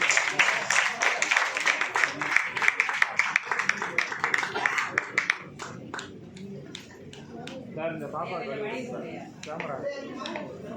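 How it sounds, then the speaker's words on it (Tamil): An audience at a school and college stage event claps in sustained, loud applause that thins out after about five seconds, with scattered claps and murmuring voices continuing underneath. "அதற்காக கைதட்டலாம்."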